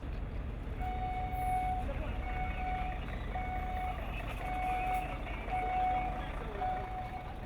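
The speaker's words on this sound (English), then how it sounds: "John Okaka Odhiambo's truck is now being loaded, and this is happening around 9 p.m., ready to begin his journey to Kigali." A Kenyan truck being loaded around 9 p.m. sounds a regular reversing beep, repeating roughly once a second over a constant loud rumble of engine and yard noise, with no voices.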